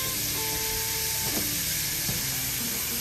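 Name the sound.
onions sauteing in sausage grease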